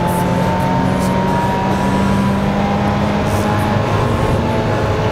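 A front-wheel drive street car, apparently a Ford Focus, driving in GRID Autosport, with a steady loud engine drone and humming tones running throughout.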